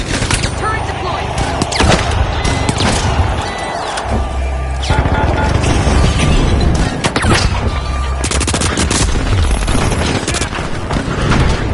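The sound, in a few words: automated turret firing after deployment in The Finals video game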